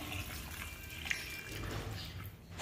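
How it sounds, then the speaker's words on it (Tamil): Water is poured into a pressure cooker holding chopped chow chow with tomato and green chillies, a soft, steady splashing trickle heard up close, with no talking. "இது முங்குற அளவு தண்ணி விட்டுக்கிருவோம்."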